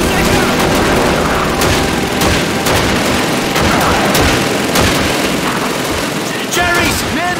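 Loud, sustained machine gun fire and rapid gunshots in Call of Duty 2 during the World War II battle of El Alamein, dense bursts overlapping with battlefield noise and explosions, with voices shouting through the din.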